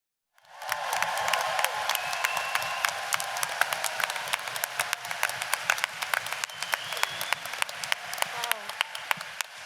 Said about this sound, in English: Let's really make a lot of loving noise. Big, loud, clapping, cheering, please,